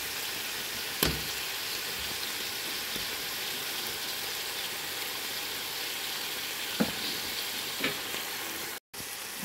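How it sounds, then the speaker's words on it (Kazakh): Potatoes fry in a pan with a continuous steady sizzle, broken by a few sharp knocks and scrapes as a utensil stirs them. "Енді картошкамызды қуырып аламыз."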